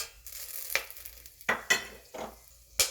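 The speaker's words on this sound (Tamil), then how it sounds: "ஒரு டேபிள் ஸ்பூன் அளவு எண்ணெய், இதில் பிரியாணி இலை, பட்டை, கிராம்பு, ஏலக்காய் சேர்த்துக்கலாம்" Bay leaf, cinnamon, cloves and cardamom fry in a tablespoon of oil for vegetable dum biryani, with a quiet sizzle broken by several sharp, close clinks and scrapes of a spoon stirring the pan.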